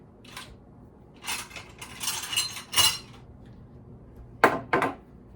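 A spatula scrapes carrot cake batter around a pan in several short, scratchy strokes, close and moderately loud, with quiet gaps between them and no talking.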